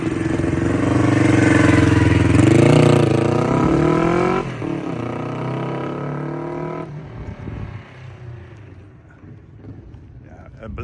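A Honda CB450 K0 motorcycle with its four-gear 450 engine runs close by, revving loudly with rising and falling pitch before dropping back to a rougher, quieter idle, while people talk over it.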